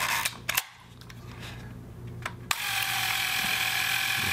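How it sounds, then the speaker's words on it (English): Horizon S-3 U-500 panoramic film camera firing its shutter at a slow speed: a few light mechanical clicks and a short whir, followed by a steady ratcheting mechanical hum, heard up close with no talking. "Let me do a slower shutter speed."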